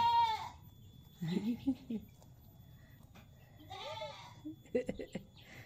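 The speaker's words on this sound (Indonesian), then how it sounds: "Itu namanya kambing. Ini namanya kambing." A goat bleats loudly twice, wavering cries separated by a few seconds, with people talking softly in between.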